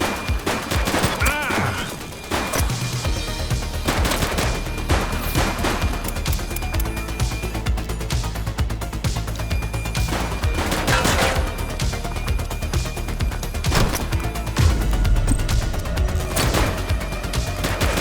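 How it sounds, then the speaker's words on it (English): Gunfire in The Precinct, a police shooter video game: dense, loud bursts of rapid automatic fire and single shots crackle almost continuously, with crashes and booms mixed in and a voice speaking briefly under the shooting. "He's shooting!"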